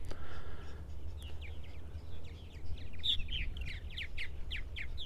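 Purple martin nestlings chirping inside a gourd nest, a stream of faint, muffled high chirps over steady outdoor background noise, with no talk.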